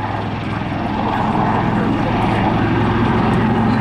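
A Royal Navy Black Cats display helicopter at Southport Airshow 2019 roars loudly and steadily overhead, its thudding rotor and engine drone filling the air without pause.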